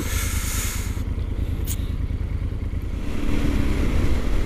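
A large motorcycle rides through city traffic with a loud, steady engine drone and low rumble throughout, swelling slightly louder near the end, with a faint clatter midway.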